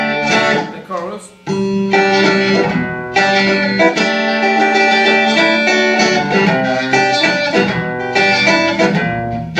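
Distorted electric guitar plays the chorus of a song, with loud, full strummed chords in a steady rock rhythm that starts after a short gap and continues for several seconds.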